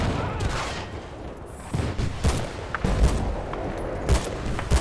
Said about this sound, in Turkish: Ha silah sıkıyor şu an.